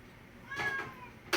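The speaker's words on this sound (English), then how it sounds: "You can hear the cat in the background." A cat meows in the background of an indoor home setting, with one drawn-out meow in the middle and a brief sharper sound at the end, all fairly faint.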